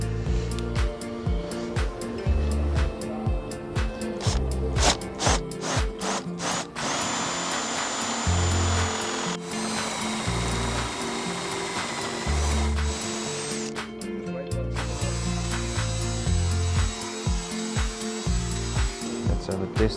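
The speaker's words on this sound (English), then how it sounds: "Now we need to hope I can drill straight." A power drill bores a hole for a Suzuki Jimny part, 9.5 mm to be tapped to 10 mm, in several bursts of whining motor with pauses between, close and loud.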